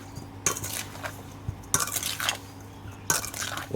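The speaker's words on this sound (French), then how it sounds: "Alors on va mélanger délicatement." Chunks of pineapple with mint leaves and sugar being gently stirred in a bowl, soft scraping swishes with a few light utensil clinks, close and quiet, recurring in three short bursts.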